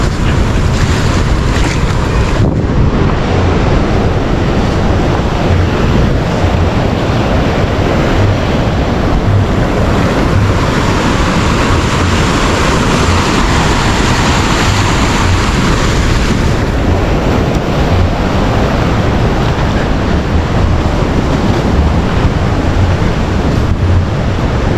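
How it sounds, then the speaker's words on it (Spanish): Sea water surges powerfully onto an El Salvador beach, reaching palm-roofed shelters and wrecked pools, as a continuous loud roaring wash with heavy wind noise over the microphone and no voices. "Miren aquí el agua como entra con fuerzas hasta aquí, hasta las ramadas."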